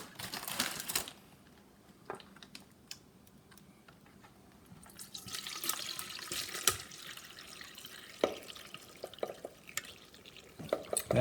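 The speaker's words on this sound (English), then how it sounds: "we're going to drain these veggies" Vegetables being drained in a kitchen sink while cooking a holiday brisket, with quiet splashing and water running that swells partway through, among scattered clicks and small knocks.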